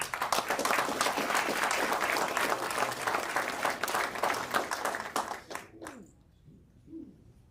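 A crowd at a mayor's New Year's levee applauds for two councillors taking the stage, clapping dense and steady for several seconds before it tapers off into quiet room tone.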